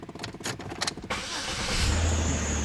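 A Chevy Impala fitted with a new transmission cranks in a rapid rhythmic churn for about a second before the engine catches and settles into a steady, close idle hum.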